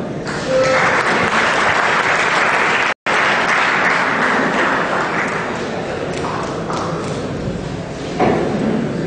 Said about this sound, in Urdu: میں آپ سب کی بھرپور تالیوں میں دعوت دوں گا مہدی مرتضیٰ کو